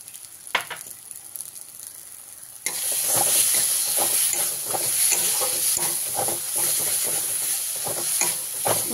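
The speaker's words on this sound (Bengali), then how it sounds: "টমেটোটা দিয়ে ভালো করে মশলাটা কষিয়ে দিলাম।" Spice paste with tomato and salt sizzling loudly in a pan, quiet at first with a couple of light clinks, then a sudden burst of steady frying hiss with rhythmic stirring scrapes running through to the end.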